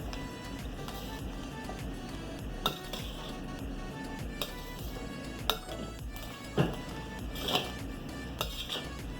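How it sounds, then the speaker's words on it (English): Spoon stirring saltfish rice with vegetables and string beans in a pot, soft scraping under a steady background hum, broken by a few sharp metallic clinks and knocks. "Now we will mix everything together."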